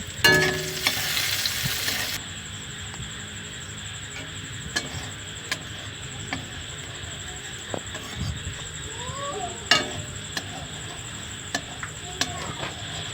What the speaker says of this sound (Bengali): বাদামগুলো দিয়ে লাল লাল করে ভেজে নেব।